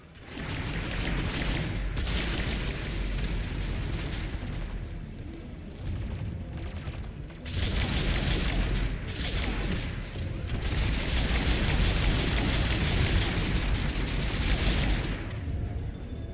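Turrets in the game Mass Effect 3 firing continuously, a dense, loud barrage of rattling shots and booming impacts that surges and dips over a sustained stretch of combat.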